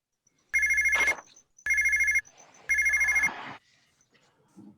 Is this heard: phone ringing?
yes